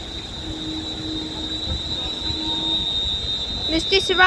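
A goods train hauled by locomotive 35248 arriving at Liverpool South Parkway station, a steady rail rumble with a sustained high tonal whine, growing slightly louder as it nears.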